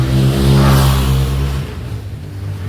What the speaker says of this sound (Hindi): इतनी तेज़ बाइक कौन चलाता है यार